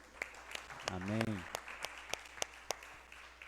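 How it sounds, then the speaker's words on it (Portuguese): A church congregation applauds with scattered, sparse claps across the room, while a voice speaks briefly over the clapping. "Vamos aplaudir o Senhor?"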